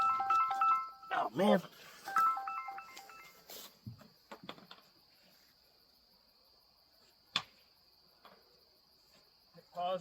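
An electronic phone ringtone plays twice in short repeated tonal bursts during nighttime railroad tie replacement work, among loud chirping crickets, a brief voice, and a few sharp knocks.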